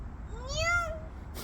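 A young child imitates a cat with one drawn-out meow that rises and then falls, soft and close against a quiet room.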